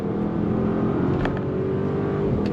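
A 2023 Bentley Bentayga EWB luxury SUV downshifts smoothly while driving, heard from inside as a steady low engine drone and road rumble, with a couple of faint clicks partway through and no talking.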